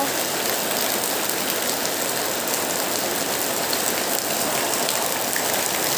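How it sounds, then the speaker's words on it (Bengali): Heavy rain pours down in a dense, unbroken roar of drops hitting surfaces, loud and steady for the whole span with no voices. "শুধু বৃষ্টি।"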